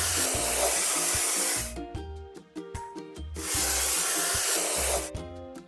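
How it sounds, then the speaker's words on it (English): A paint sprayer in a truck video game covering stains, hissing loudly in two long bursts over light game music, with no talk. "Let's point the sprayer at the stain and paint it over."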